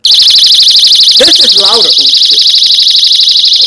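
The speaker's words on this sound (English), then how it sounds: "Now, I have a real Sabre brand alarm right here." A Sabre brand personal safety alarm shrieks loudly and continuously in a rapid warbling pulse throughout, with someone speaking briefly under it.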